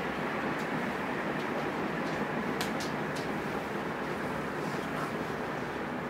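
A 2011 Canarm CP56 140 cm ceiling fan runs at its second highest speed, a steady, faint, even whoosh of moving air that carries on without change and with no talking.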